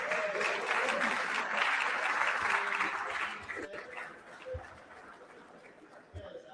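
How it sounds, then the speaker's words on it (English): Crowd applause at a golf club awards gathering, honoring the winning golf team; steady dense clapping for about three seconds, then thinning out and fading, with a few scattered claps at the end. "we'd like to give them a round of applause for their big win."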